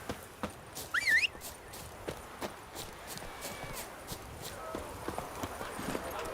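Roach the horse running in The Witcher 3 game: a steady clip-clop of hooves in quick rhythm, moderately close, with a brief squeak or whinny early on and faint game ambience underneath.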